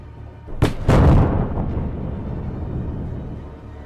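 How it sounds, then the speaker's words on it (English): Two HIMARS missile strikes hit vehicles in a Russian convoy: two sharp, close blasts in quick succession, followed by a heavy rolling rumble that slowly trails off. "HIMARS promptly delivered 2 strikes."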